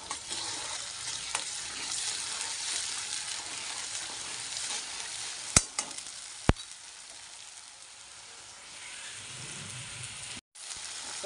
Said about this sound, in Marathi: त्याच्यात आता हे अद्रक लसूणचं पेस्ट टाकायचं.